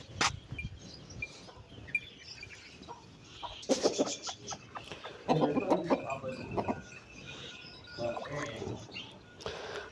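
Rooster and hens clucking in a backyard coop while they are given medicine, scattered fowl calls and clucks rising in bursts over faint background noise, with no one speaking.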